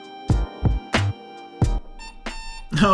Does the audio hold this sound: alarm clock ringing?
yes